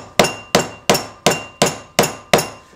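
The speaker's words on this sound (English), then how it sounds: "Just hammer this down" A round-face hammer drives a ribbon tie into a board with seven sharp, evenly spaced blows, each a bright close metallic knock with a short ringing decay, no voices.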